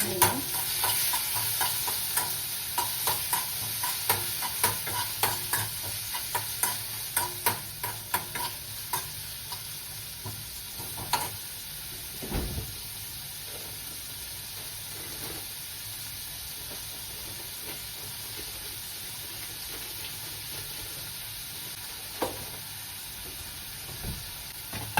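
Chopped onion and tomato frying in a hot pan, a steady sizzle with repeated scraping stirs early on that thin out into a continuous hiss and occasional spatula knocks.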